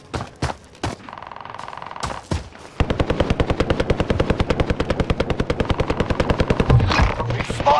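Rapid automatic gunfire from a multiplayer shooter game, a few scattered shots followed by a dense, sustained burst of evenly spaced loud rounds lasting several seconds.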